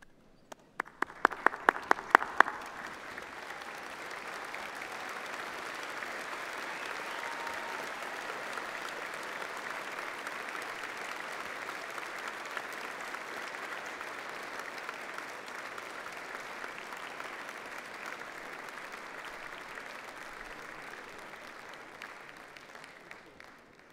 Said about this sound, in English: join me in showing your thanks with a huge round of applause